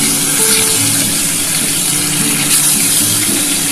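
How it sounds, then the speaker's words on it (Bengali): Pieces of tilapia sizzle in hot oil in a pan, a steady loud hiss and crackle of frying that runs unbroken from start to finish. "আমার তেলটা কিন্তু গরম হয়ে গেছে। এবার আমি মাছটা দিয়ে দিলাম।"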